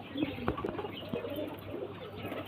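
Pigeons in a Bamumgachi pigeon fancier's loft coo softly several times, with low throaty calls rising over a steady background murmur and a few brief chirps.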